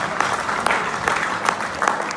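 An audience claps together at a network marketing talk in India, a dense, steady wash of applause with sharp individual claps standing out, filling the room without any voice over it.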